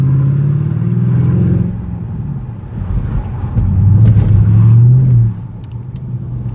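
A car on a midnight drive accelerates hard to make a green light. The close engine drones low, surges and climbs in pitch, holds a strong rising note, then eases off, with no talking.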